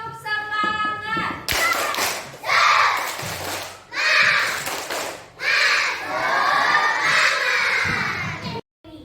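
Children in an Indonesian classroom doing a rhythmic 'tepuk semangat' clapping chant, loud bursts of shouted chanting and clapping in several phrases, close by and energetic, ending abruptly.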